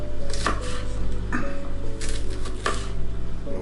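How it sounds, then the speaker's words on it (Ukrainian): A knife chops cabbage for borscht in a rural kitchen, with a few distinct crisp cuts against a board spaced about a second apart over a low steady background hum, close by. "Нарізаємо капусту."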